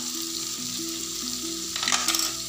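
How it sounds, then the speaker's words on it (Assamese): Fish curry with jackfruit seeds and potato sizzles steadily in a pan while being stirred, with a low background hum and a short burst of scraping near the end. "এতিয়া মই ঢাকনখন দাঙি আকৌ এবাৰ লৰাই দিছোঁ"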